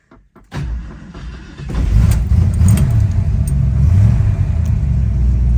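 A 1971 Ford Mustang 302 V8 engine cranks and catches after a few clicks, then settles into a deep, rumbling idle, close and loud, with no voices.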